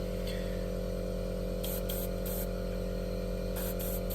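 A spray gun hisses loudly and steadily as it applies paint in light coats, with brief surges in the spray over a constant low mechanical hum.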